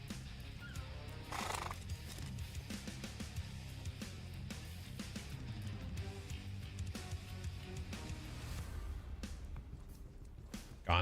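A Gondor Steed horse in a video game neighs and whinnies while hooves clip-clop softly underneath, all fairly faint.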